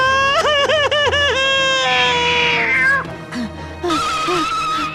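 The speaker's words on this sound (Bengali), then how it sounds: "বিড়ালটা তাই দেখে আরো জোরে ডাকতে থাকে।" A cartoon cat meows loudly in a rapid run of four short calls, then gives a longer drawn-out cry and a few more meows, bright and close.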